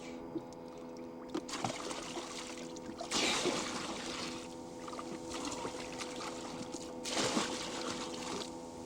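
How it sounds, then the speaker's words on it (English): Water being scooped and poured out of a tipped-over dinghy, with splashy bursts of pouring and sloshing at intervals over a steady low hum, close by. "my white tipped it over, so I'm scooping out the water, as you can see"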